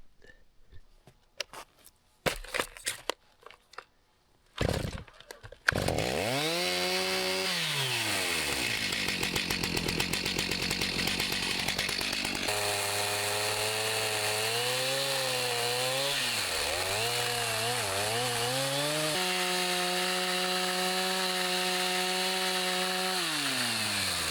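A chainsaw bites steadily through a rotten standing tree being felled for firewood, a loud sustained roar with the engine pitch dipping and rising under load, preceded by a few sharp knocks and revs.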